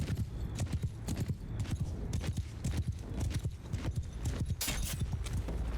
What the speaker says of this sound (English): Is that Kareth again on a horse?